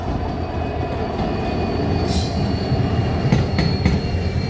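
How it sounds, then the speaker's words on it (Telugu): A crossing train passes through Basar railway station with a continuous heavy rumble of wagons and wheels, and brief squeals of wheels against the rails rising over the roar. "సో చూసారు కదా క్రాసింగ్ ట్రైన్ అయితే వచ్చింది."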